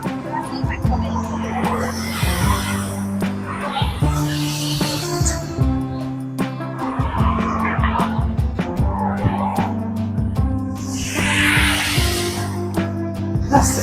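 Busy night road traffic in Kuala Lumpur's Bukit Bintang area, with cars passing close by, engines humming and tires hissing, alongside a steady low musical drone throughout.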